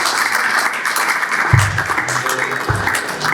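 An audience applauds and cheers at a French-language talk show, with steady broadband clapping filling the whole stretch and a few low thumps mixed in.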